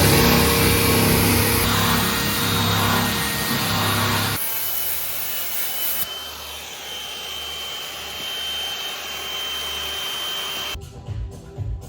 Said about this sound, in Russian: Режем, в общем, отверстие.